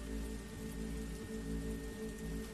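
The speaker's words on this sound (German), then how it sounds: "Und es regnet." Steady, continuous rainfall in The Walking Dead Season 2 video game, a dense even patter on surfaces that holds at a constant level throughout, with no voices over it.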